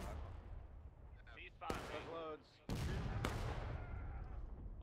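Artillery in the video game War of Rights firing canister shot during a historical battle event, several sharp, loud booms echoing in succession over background battlefield rumble, with a voice shouting partway through.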